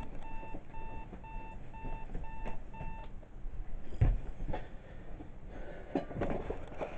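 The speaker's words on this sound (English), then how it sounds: "I forgot my big alarm was set for 1." A bedside alarm beeps in a rapid, evenly spaced series of bright electronic tones for about three seconds, then stops, leaving rustling and handling noises.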